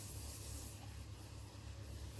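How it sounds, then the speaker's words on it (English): Steady, faint abrasive rubbing from hand-sanding a soft polymer clay bowl, a continuous hushed scratch with no pauses and no voices. "So I'm going to keep sanding."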